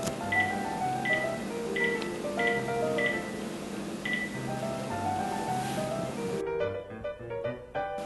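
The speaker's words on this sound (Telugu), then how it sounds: "కొంచెం నెంబర్ కలుపు" A phone call to India being dialed, with a quick series of clear keypad tones, evenly spaced beeps, followed by a short ringback or connecting sound, close and alone without talk.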